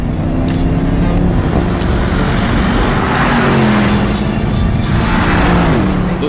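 A Porsche Panamera GTS with a bi-turbo V8 accelerates, its engine note a loud, steady drone with rising and shifting tones through the whole stretch, heard up close with no talking over it.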